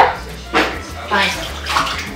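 Water splashing and sloshing as a cup is rinsed out, in three short bursts close by at a sink or tub, with a steady low hum underneath.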